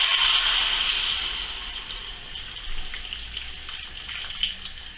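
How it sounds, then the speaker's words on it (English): Homemade game stock is poured into a cooking pot for pot-roasted pheasant in a steady splashing stream, strongest at first and then gradually tapering off, close by. "you can always top this up with water"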